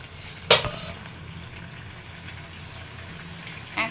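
Curry bubbles and simmers in a pan before fried rohu fish pieces go in, a soft continuous sizzle close by, broken by two brief clinks of a utensil.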